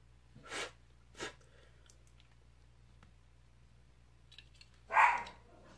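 Indoors, a dog gives three short, sharp barks, two close together early on and a louder one near the end, over a low electrical hum, with no talk.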